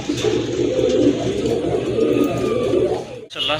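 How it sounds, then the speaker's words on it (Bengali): A pair of Giribaz pigeons coos close by, the soft calls blending into a steady wash of background noise that drops out briefly near the end. "আরেক জোড়া কবুতর, গিরিবাজ কবুতর, মাশাল্লাহ অনেক সুন্দর কবুতর"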